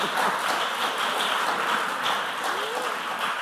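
An audience applauding a junior high school quiz team at a semi-final contest, a sustained, dense wash of clapping that stays steady throughout, with voices faintly mixed in.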